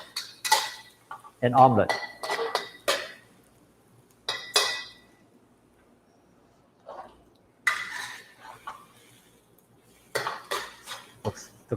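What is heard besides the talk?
stirring egg and tomato in a wok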